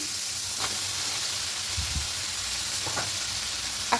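Masala and taro stolons sautéing in a pan for a prawn curry, a soft steady sizzle with a few faint scrapes of stirring.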